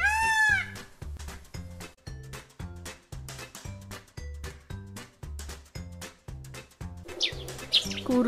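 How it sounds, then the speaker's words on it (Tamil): Short, high-pitched chirps of a sparrow, heard at the start and again near the end over a steady, thumping musical beat. "குருவி,"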